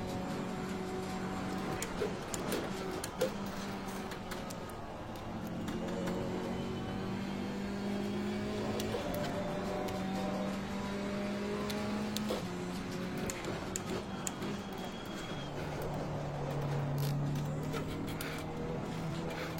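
A GT4 race car engine on an out lap warming its tires, heard quietly as shifting engine tones rise and fall through gears with intermittent clicks, steady and low in level, with no talking.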